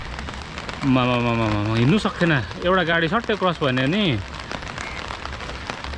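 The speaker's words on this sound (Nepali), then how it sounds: "सिलगढीमा पनि पानी चाहिँ मजाले पर्यो" Rain falling steadily in Siliguri, a continuous soft patter running throughout while someone talks over it for most of the clip.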